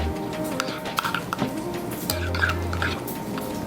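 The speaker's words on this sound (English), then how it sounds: "let's give that a stir" Lasagna filling with Parmesan and egg being stirred in a bowl, with close scraping and clinking of a utensil in an uneven rhythm while a voice talks over it.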